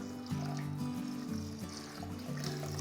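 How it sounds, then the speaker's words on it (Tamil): Rice washing water pouring and trickling steadily into a basin or drain, close by, with a low hum underneath and no talking. "ஃபஸ்ட்டு கழுவுற தண்ணியை கீழே ஊற்றிடலாம்"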